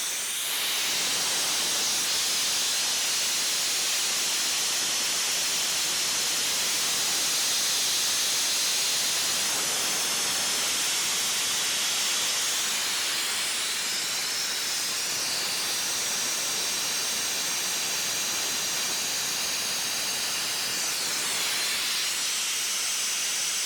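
A loaded Atlas Copco 375 CFM diesel tow-behind air compressor roars close by with a loud, constant hissing rush of air and engine, unbroken for over twenty seconds without any talking.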